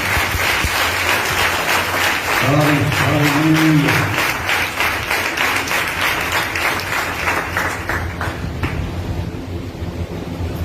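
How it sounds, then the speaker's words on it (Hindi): Loud, sustained applause from a church congregation welcoming a pastor, a dense wash of clapping that fills the room and gradually thins toward the end, with brief voices rising through it. "जोरदार तालियां।"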